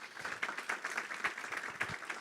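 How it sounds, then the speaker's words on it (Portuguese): An audience at a school violence-prevention forum applauds the school community with steady, moderately loud clapping from a crowd that holds an even level throughout. "Então quero pedir palmas aí para a nossa comunidade escolar."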